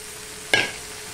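A short single stir scrapes through tomato, salt, turmeric and ginger being sautéed for a taro and fish curry, a brief close sizzle and scrape against otherwise quiet background.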